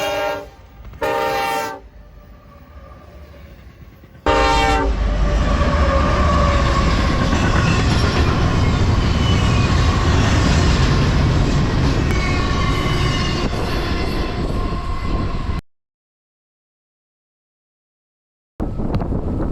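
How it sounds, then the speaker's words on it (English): An eastbound intermodal freight train led by an SD70 locomotive roars past, loud and close for about eleven seconds, after short horn blasts in the distance. "an eastbound intermodal came through with an SD-78 leader and another awesome crew"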